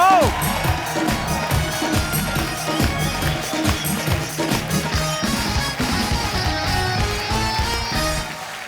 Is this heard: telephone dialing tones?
no